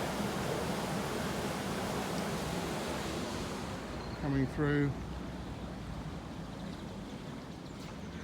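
Steady, full rush of water pouring through an old mill on the River Colne after heavy rain, a constant close roar with a man's brief remark cutting in midway.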